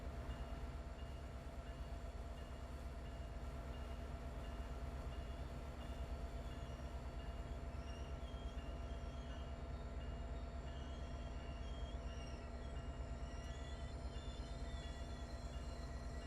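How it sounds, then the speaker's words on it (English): An MBTA commuter train in Train Sim World 2 slows into a platform stop, a steady low rumble of rolling rail wheels and brake noise with faint high squeals late on, no talk. "we're going to start applying the brake here for our platform stop"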